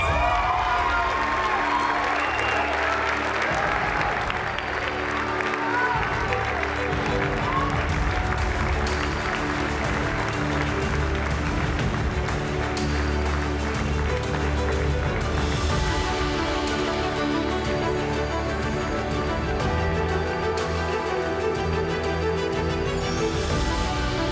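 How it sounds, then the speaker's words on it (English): Crowd at the CSA Awards 2023 cricket awards ceremony cheers and applauds for a Fans Player of the Year winner, a loud, sustained roar of clapping and whoops filling the room, with music and voices blended in. "I suspect there'll be a big cheer here."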